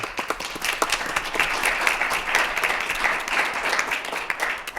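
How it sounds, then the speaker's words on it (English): An audience at a school board meeting gives a sustained round of applause for a student board member selected for a second term, with dense, steady clapping filling the room throughout. "If you would join me in a round of applause."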